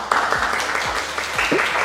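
A small audience at a talk gives short, scattered applause that lasts a couple of seconds at moderate loudness.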